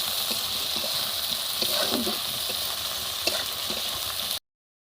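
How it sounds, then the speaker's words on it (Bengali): Sliced onions frying in a pan until lightly browned for a home-cooked chicken dish: a steady, close hiss and sizzle of hot oil with faint pops and stirring clicks, then sudden silence. "পেঁয়াজটা হালকা ব্রাউনভাবে ভেজে নিয়েছি"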